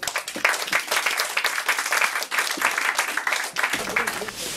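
An audience at a French-language literary reading evening claps for a reader. The applause is steady and fairly close, with voices mixed in, and it thins toward the end.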